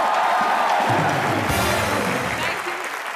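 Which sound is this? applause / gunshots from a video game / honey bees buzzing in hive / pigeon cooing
applause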